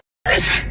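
A single sharp human sneeze bursts out after a moment of silence, close and loud, trailing off into breathy noise.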